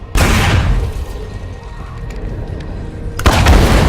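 A thrown explosive detonates in State of Decay 2 gameplay, a loud deep boom at the start that rumbles on, followed by a second heavy blast near the end.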